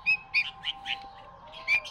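Kashmiri bulbul chicks in a Baghdad bird enclosure give repeated bright chirps, about five short bursts over two seconds, fairly close, with no talk.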